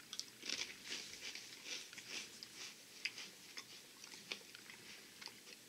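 Crunchy garlic butter pretzel spindles are chewed close to the mouth, giving a quiet run of crisp, irregular crunches and bites that continue throughout with no talking.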